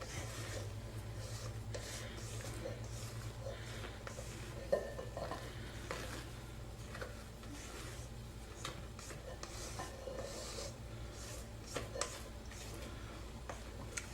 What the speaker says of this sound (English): periodically scrape your bowl, scrape the bottom